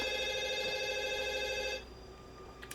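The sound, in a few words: telephone ringing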